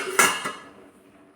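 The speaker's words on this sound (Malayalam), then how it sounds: "ഇനി ഇത് അടച്ച് വയ്ക്കാം" A metal lid set down on a pot of chukku kappi, a dry ginger coffee, on a stove: a sharp clatter followed by a second lighter knock, then a fading ring. Close by, with no talking.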